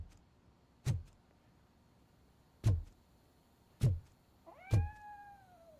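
A cat meows inside the video game RoboCop: Rogue City, with four short sharp cries spaced a second or two apart; the last is a drawn-out, falling meow, all fairly clear over a quiet background.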